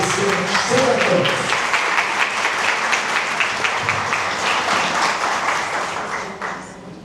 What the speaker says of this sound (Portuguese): vamos receber com carinho, com aplausos, nossa aparecida Sandra Campos